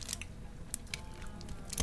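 Crunchy coffee cream candy being bitten and chewed up close, a few crisp crunches scattered through a soft, steady mouth noise with no talking.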